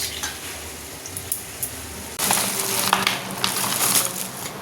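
Lentil fritters frying in a pan of hot oil in a home kitchen, a close, steady sizzle that jumps suddenly louder and hisses more brightly halfway through as more batter goes in, with no talk.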